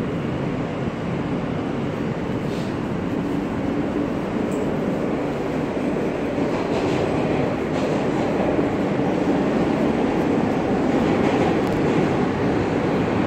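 A New York City subway M train runs on weekdays near 71st Avenue, a loud, continuous rumble and roar of wheels on rails with faint rhythmic clatter, steady and close throughout, without voices.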